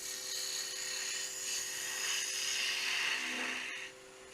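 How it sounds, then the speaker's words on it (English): Steady whirring hiss of a bowl gouge rough cutting a wooden egg on a wood lathe, continuous and close, swelling and easing slightly before cutting off near the end. "doing some rough cutting with this bowl gouge"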